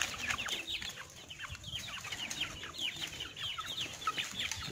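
Five-month-old Joper hens, now free-roaming, mingle with village chickens, giving repeated soft clucks and short cackles at low volume, close by and overlapping, with no talk.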